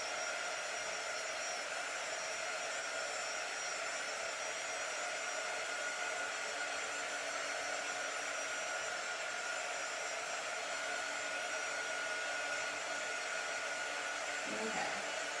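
A hair dryer blows continuously at a steady, moderate level, drying chalk paste on a round door-hanger craft, with no talk over it.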